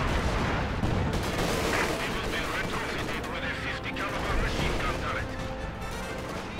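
Heavy 105 mm artillery fire in Company of Heroes 2, dense overlapping booms and gunfire rumbling continuously through a busy, loud battle soundscape, with speech-like chatter mixed in.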